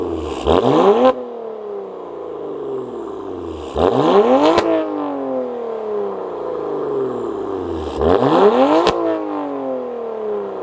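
A BMW F80 M3 fitted with an aftermarket exhaust revs three times, each sharp rise in engine pitch followed by a falling pop-filled decay and idle in between.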